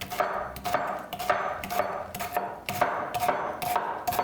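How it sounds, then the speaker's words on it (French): A knife chops through bitter melon on a cutting board, with sharp, evenly spaced cuts repeating close and clear, with no talking. "je vais couper le morceau"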